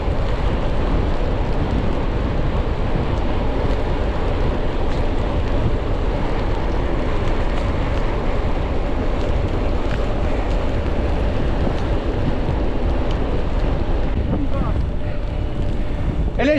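A boat motor hums steadily on the water for the whole stretch, with wind buffeting the microphone and shouts from onlookers in the background.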